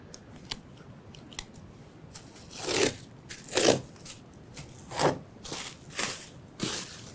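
A knife slices through a plastic drop cloth in short, crisp rasping bursts, several close cuts in a loose rhythm with quiet gaps between them.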